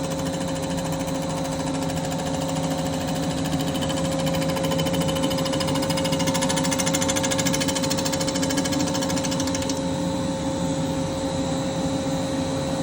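Steady, loud machining drone of a Kawasaki Ultra 300LX jet ski crankcase being skimmed flat on a surfacing machine, a continuous whine with a constant hum that runs unbroken throughout with no talk.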